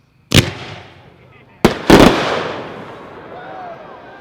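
A Dominator instant slice firework cake fires 7 shots with gold lace: sharp loud bursts, one early and then a close pair, each followed by crackling that slowly fades, outdoors.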